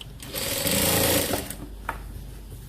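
A sewing machine runs steadily while stitching a Lao sinh skirt, a continuous close whirring drone that swells slightly midway, then stops, leaving quiet room sound with a brief tap.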